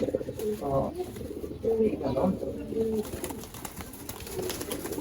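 A domestic clay pigeon, one of a hobby keeper's home-bred birds, coos in low throaty phrases repeated over about five seconds, with some background noise around it.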